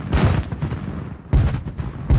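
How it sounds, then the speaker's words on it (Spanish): Cannon fire booms out in a rapid series of heavy, rumbling blasts, one after another, each with a rolling low tail, from artillery bombarding a town during an 1812 siege. "Ya se podían escuchar a la distancia los cañonazos que se disparaban contra Huajuapan."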